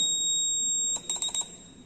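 A steady high electronic tone sounds, then breaks into a few quick beeps, thin and piercing, from a small alarm device in a smart bag nearby.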